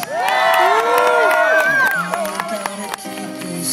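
A crowd cheers and shouts loudly at a BMX bike stunt show at the Texas State Fair, with children's voices and whoops in a sustained roar that eases slightly toward the end, under an announcer.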